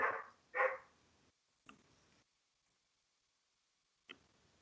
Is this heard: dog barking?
yes